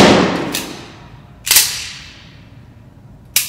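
M9 pistol shots fired at a 25-meter range: three sharp, loud single cracks spaced a second or two apart, each trailing off with a short echo outdoors.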